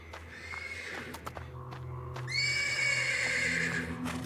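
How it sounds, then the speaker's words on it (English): A horse neighs persistently from the stables in a video game, with a long, loud whinny rising near the middle and holding to the end over low ambient rumble, preceded by a few sharp knocks. "The persistent neighing of a horse can be heard from the stables."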